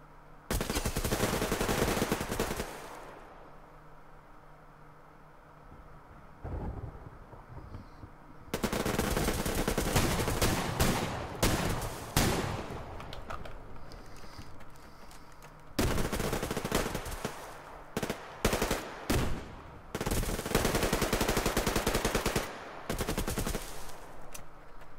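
Rapid automatic gunfire in the video game Suvarium, including a Remington, comes in loud sustained bursts separated by brief quieter gaps, with a few single shots mixed in.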